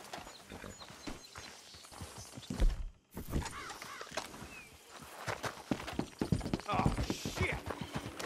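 In Red Dead Redemption 2, horses walk with a clip-clop of hooves in a rhythmic series of close hoof falls. The hoofbeats run under people talking and mix with other game sounds.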